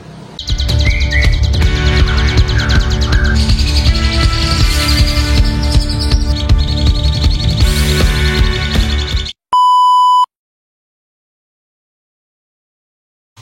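A jalak suren (Asian pied starling) sings loudly and nearby in rapid, varied chirps and trills for several seconds. The song stops, a short electronic beep sounds, then silence.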